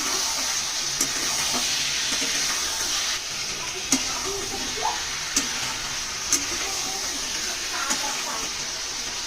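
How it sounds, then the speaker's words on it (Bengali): Tomatoes cook with spice paste in an oily pan, giving a soft continuous sizzle broken by a few sharp clicks of a spoon against the pan, moderately faint and close, with no voices. "এবার টমেটোটাও একটু কষে নেব।"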